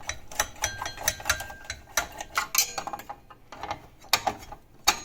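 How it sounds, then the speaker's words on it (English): Screws are backed out of a CPU heatsink on a budget PC build, giving a close series of small metallic clicks, ratcheting ticks and light scrapes in irregular bursts, with no talking. "So I'm gonna go ahead and take off these screws."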